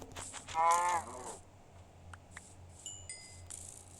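A short synthetic cow moo from Minecraft rises loud near the start, followed by quiet game clicks and chimes.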